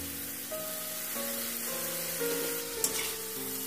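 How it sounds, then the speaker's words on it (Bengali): Ginger garlic paste, cumin paste, turmeric and salt fry in hot oil for a soyabean and broccoli dish, giving a continuous close sizzle with faint stirring scrapes and no speech. "একটু ভালোভাবে কষতে থাকতে হবে যতক্ষণ না আদা রসুনের গন্ধ চলে যায়।"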